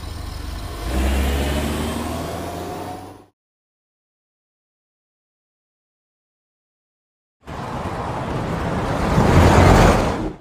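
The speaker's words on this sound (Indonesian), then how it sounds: "segera melesatkan mobilnya menuju ke tempat Rafael" A car speeding off in an action film scene, with a mid-pitched engine revving and whirring up close, cut by a stretch of silence, then surging back louder as it accelerates away.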